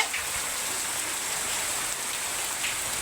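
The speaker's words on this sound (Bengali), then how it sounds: "প্রবল বৃষ্টি হচ্ছে এখন" Heavy rain pours down outdoors in a steady, dense hiss that stays loud and even throughout, with no voices over it.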